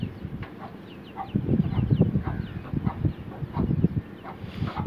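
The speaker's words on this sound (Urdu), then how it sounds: "یہ وہی رنگ برنگے چوزے ہیں جو لوگ کہتے ہیں ہم سے نہیں پلتے" Colorful chicks chirp in repeated short, high peeps, close and fairly loud, over a low, dense layer of scratching and rustling, with no speech.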